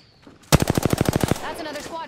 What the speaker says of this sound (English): Another squad shooting at us.